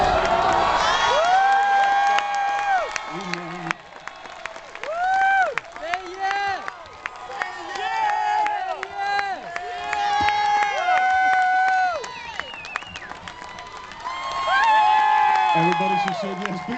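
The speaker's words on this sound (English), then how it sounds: "Big round of applause right over here for Jenny and Jason" Crowd cheering and whooping right after a marriage proposal at a Hawaiian venue, sustained loud shouts and cheers from many people with scattered clapping, rising again at the end, with an announcer's voice over it.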